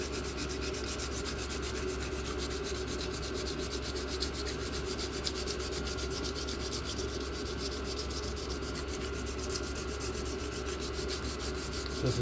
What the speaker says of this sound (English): Going to show what a little bit of old sandpaper would do.